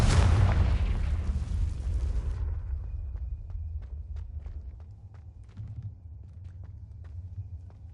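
A Confringo fire spell in Hogwarts Legacy bursts with a loud, broad boom that decays over a couple of seconds into a low rumble, dotted with faint, regular ticks afterward.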